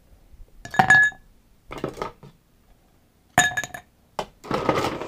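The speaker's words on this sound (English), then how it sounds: "Add a couple pieces of ice to your glass." Ice cubes drop into a cocktail glass in several bright clinking bursts, two early clusters and two later ones, close and clear against near silence.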